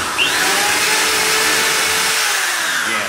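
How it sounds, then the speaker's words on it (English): Power drill boring through the planking of a wooden skiff under construction, a steady, loud, continuous whine running unbroken for the whole stretch with no talk over it. "don't drill too deep, just go through the planking"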